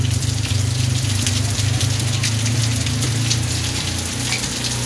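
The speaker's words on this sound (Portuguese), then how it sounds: "Já começou a chover aqui em Joaquim Gomes" Heavy late-afternoon rain falls in Joaquim Gomes, Alagoas, as a dense, continuous loud hiss with a low rushing rumble underneath, steady throughout and without voices.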